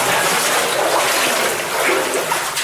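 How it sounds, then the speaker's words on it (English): Shallow water in an underground passage being waded through, a continuous close splashing and sloshing churn without pause. "The water's getting a little more shallower."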